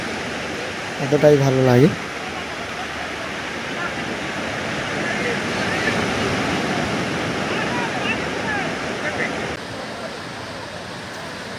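Sea surf at Digha beach rolls and washes around a bather, a loud, steady broadband roar close by, with a brief burst of talk near the start.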